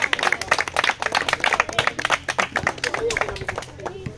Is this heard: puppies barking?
no